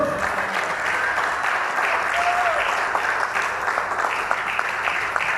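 A church congregation applauds during a Spanish-language sermon, a sustained wash of many hands clapping together, even and continuous with a brief voice or tone rising through it.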